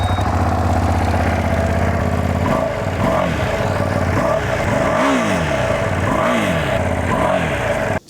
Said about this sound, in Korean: 바로 이제 배기음으로 한번 들어가 보도록 하겠습니다